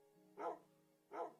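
Minecraft dog puppies give two short, evenly spaced barks, soft and clear over a faint background tone.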